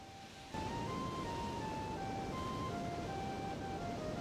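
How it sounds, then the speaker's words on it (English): A flute plays in the video game Orphen: Scion of Sorcery, a steady wandering melody of single held notes over a constant rushing ambient bed that kicks in after a brief quieter start. "Alright, keep playing that flute,"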